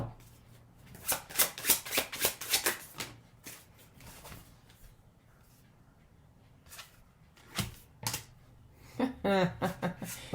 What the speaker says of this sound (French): J'ai pris mes cartes qui font du bruit.